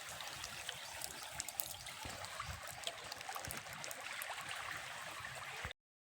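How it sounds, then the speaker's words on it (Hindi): Water flows gently over stones in a small stream, with a light breeze: a faint, steady trickle close by that stops abruptly at the end. "यहाँ पर मस्त हवा चल रही है और पानी भी बह रही है थोड़ी थोड़ी"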